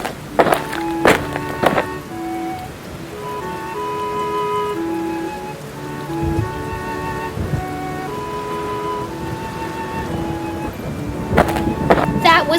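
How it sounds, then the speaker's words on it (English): Rain falling with rumbling thunder outdoors, a steady wash of rain under occasional louder crashes, with a tonal musical line running through much of it. "Look at this rain."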